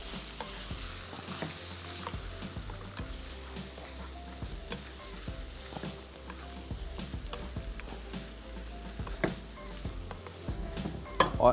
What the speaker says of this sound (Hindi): इसकी थोड़ी सी भुनाई